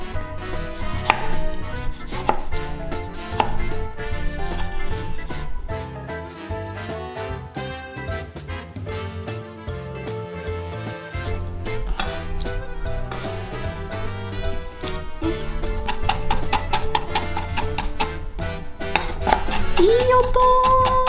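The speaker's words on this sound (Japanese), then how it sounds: "トマトはね、まあ、ちょっと切りにくいというかぐじゅっともなりやすいので粗くね、切れる範囲でザクザクと切っていきます。" A knife roughly chops tomatoes on a cutting board, with steady rapid taps and crunches running throughout over kitchen background and music, fairly close and moderately loud.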